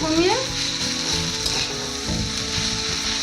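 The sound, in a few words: chicken sizzling as it cooks in a pan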